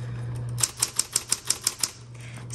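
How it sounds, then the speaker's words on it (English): A 1970s Electra 110 electric typewriter types a quick run of about eight sharp, evenly spaced key strikes over a steady low motor hum, close and clear, with no voices. "So that is how you use your Electra 110 typewriter."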